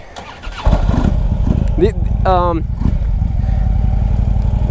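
A 2010 Harley-Davidson Ultra Limited motorcycle starts and settles into a loud, deep, rumbling idle close by, with someone speaking briefly over the running engine.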